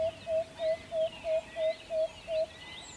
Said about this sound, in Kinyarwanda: Mu rukerera urumva ko inyoni zirimo ziravuga